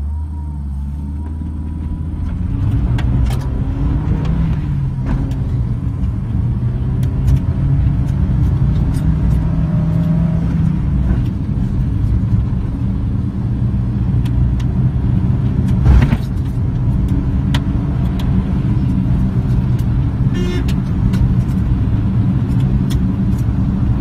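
Car accelerating from a standstill to 100 km/h, a steady engine and road rumble building loud and close from inside the vehicle, continuous for the whole stretch with no talking.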